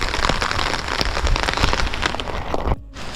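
Steady heavy rain pattering on a surface close by, a dense crackling hiss of drops that cuts out abruptly near the end.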